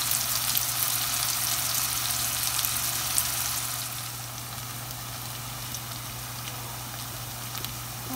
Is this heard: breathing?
no